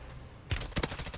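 A sniper rifle shot in Call of Duty: Warzone lands as a sharp, loud crack after a quiet lead-in, followed by a few more close gunfire bursts and a lingering rumble.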